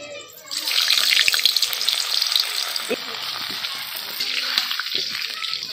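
Litti dropped into hot oil with chillies, a loud steady sizzle and crackle of frying that swells early and continues close up without pause.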